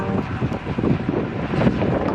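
Wind buffeting the microphone while riding a bicycle with a group on a very windy day, a steady loud rumbling roar with gusty swells and no talk.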